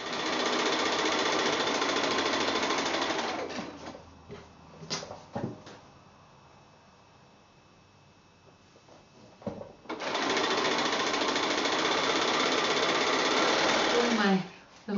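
A sewing machine stitches quilt block rows together in steady, loud whirring runs at close range, stopping in the middle for a stretch of quiet handling clicks and fabric shuffling before starting up again.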